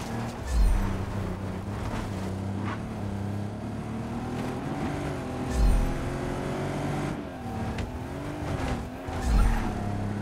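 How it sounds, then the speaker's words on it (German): A car drifting in the video game Just Cause 3, a steady droning engine with wavering tire squeal that rises and falls through the turns, plus occasional low thumps, continuous and fairly close. "Versuche ein bisschen zu driften, so gut es geht."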